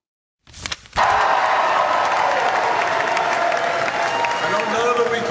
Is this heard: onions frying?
no